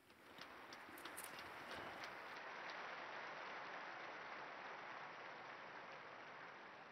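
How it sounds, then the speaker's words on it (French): Crowd applause fills St. Peter's Square during the Sunday Angelus after a beatification is announced, a dense steady clapping that carries on evenly from start to finish with no voices over it. "Je vous demande d'applaudir le bienheureux Alfredo."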